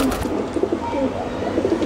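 Pigeons coo softly and repeatedly at a pigeon farm, several overlapping low throaty calls close by in a steady stream with no talk.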